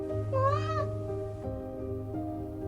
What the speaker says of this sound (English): we found a small ginger cat